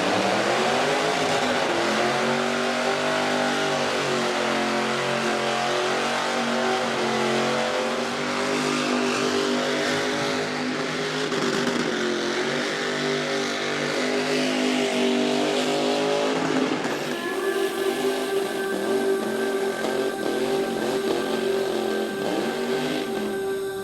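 Burnout car at Summernats in Australia, engine held at high revs with a wavering, screaming note for about seventeen seconds before it shifts to a higher steady whine, loud and continuous, no talking.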